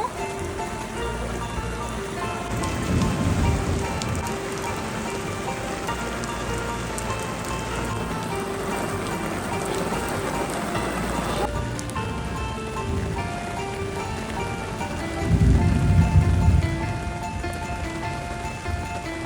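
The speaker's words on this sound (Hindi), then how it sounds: "ऐसी तेज बारिश हो रही है जैसे किसी ने बहुत तेज नलका खोल दिया हो" Heavy rain pouring down hard, a dense steady hiss of drops drumming on surfaces throughout, with brief louder bursts of nearby splashing.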